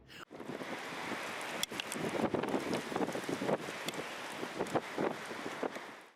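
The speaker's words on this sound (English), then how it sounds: "A gust of wind was seen twisting with a heavy thrust, forcing tall trees to move with its rhythm." Strong wind roars steadily and loud, with rushing gusts and buffeting against the microphone as it pushes through tall trees during heavy rain.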